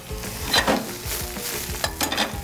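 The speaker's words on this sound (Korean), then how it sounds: "자, 어느 정도 좀 향을 내서 볶아주신 다음에 자, 여기에 파인애플도 넣어줄게요." Green onion, pineapple and chili stir-fried together in a hot pan give a steady close sizzle, broken by scraping and tossing strokes from the stirring utensil.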